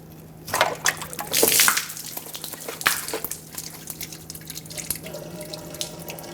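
Transmission fluid drains from a leaking oil pan on a 2003-2009 Dodge Ram 2500 HD, a close, trickling and splashing pour with bursts and drips that fades to a steadier low trickle.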